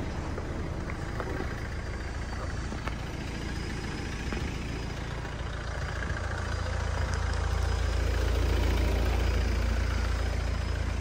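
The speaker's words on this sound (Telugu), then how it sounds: "ఇంకా ఇంజన్ చూపిస్తానండి." A 2014 Renault Pulse car engine idling, a steady low hum close by that grows slightly louder and deeper toward the end, with no talking.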